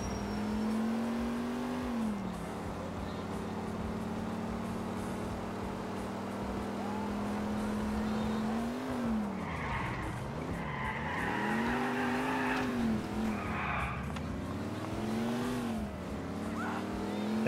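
A car in Grand Theft Auto IV drives with a steady engine hum that rises and falls as it revs. Tyres squeal and skid through the middle stretch.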